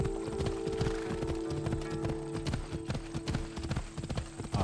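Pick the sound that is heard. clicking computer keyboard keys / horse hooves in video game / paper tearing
horse hooves in video game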